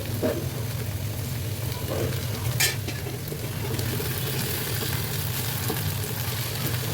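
Okra fries in oil in a pan, giving a continuous, even sizzle with faint stirring scrapes and a brief clink partway through. No one speaks.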